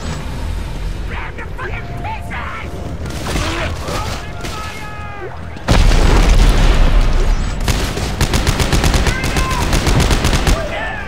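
Gunfire in the sci-fi shooter Dead Space 3 during a co-op session, scattered shots and bangs early, then a loud, sustained volley of rapid bursts in the second half, with voices and game effects mixed in.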